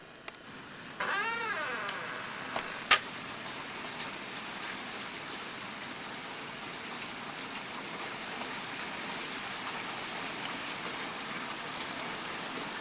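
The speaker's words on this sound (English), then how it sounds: "It is raining really hard now." Steady broadband hiss of hard rain pouring down throughout, with a cat meowing briefly near the start and a sharp click soon after.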